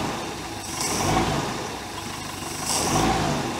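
A 1973 Mercruiser 120 hp boat engine is revved twice as the throttle is given, swelling in two rising surges over a steady running rumble, close and fairly loud.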